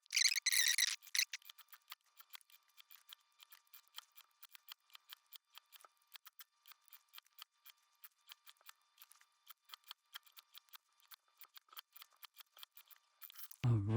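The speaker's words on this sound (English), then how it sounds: "We are gonna sew this on with a serger." A serger stitching along a seersucker dress seam sounds as a quiet run of rapid, fine clicks and ticks, close by. Short bursts sit at the very beginning and end, with no talking.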